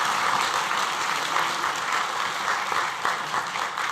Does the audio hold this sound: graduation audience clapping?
yes